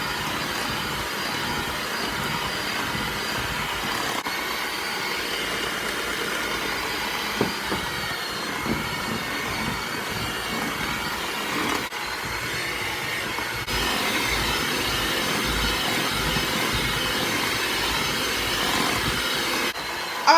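An electric mixer on low speed beats sifted powdered sugar into cupcake frosting, giving a steady, unbroken motor whir with faint rattling that holds at even loudness for about twenty seconds.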